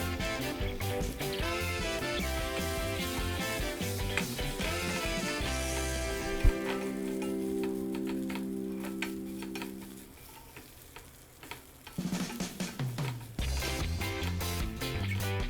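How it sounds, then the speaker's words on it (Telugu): Pre-boiled mutton keema for an Andhra-style fry goes into hot oil and fries in a steady, dense sizzle with stirring clatter, fairly loud and close throughout, a brief low thump partway, then the frying continues unbroken. "మనం ఇప్పుడు ముందుగా ఉడకబెట్టుకున్న కీమా వేసుకుందాం"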